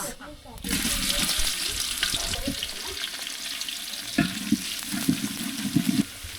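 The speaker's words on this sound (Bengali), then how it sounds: "এখন দিয়ে দিচ্ছি কুচানো পেঁয়াজ" Chopped onion fries with whole garam masala spices, cardamom, cinnamon, bay leaf and peppercorns for a winter vegetable khichuri, making a continuous close sizzle with occasional stirring knocks in the pot.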